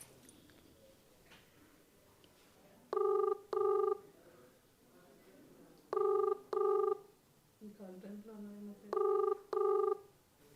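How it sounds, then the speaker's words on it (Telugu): Ringback tone from an outgoing phone call during an interview: three pairs of loud electronic double rings, evenly spaced, with quiet room noise and a faint voice in the gaps between them. "చూద్దాం, నంబర్ రింగ్ అవుతుంది."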